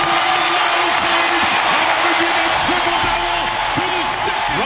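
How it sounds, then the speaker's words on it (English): A large NBA arena crowd in Oklahoma City roars with sustained cheering and applause, a dense, loud wash of noise with whoops rising over it and a commentator speaking on top. "Listen to the crowd."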